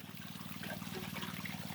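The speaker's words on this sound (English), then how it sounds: "Let's go watch the first water at idle hit the high banker for the day here." Water trickles slowly through a gold high banker on the North Saskatchewan River in Alberta at idle flow, a faint, steady liquid dribble over a low, even hum, with no talking.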